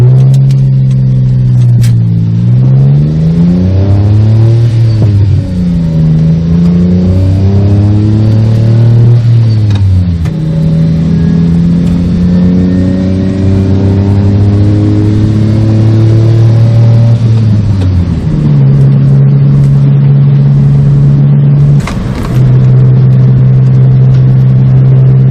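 A car fitted with welded twin side exhaust mufflers, valve open, drives with a loud, deep booming exhaust note that rises and falls through several accelerations and gear changes before settling to a steady drone.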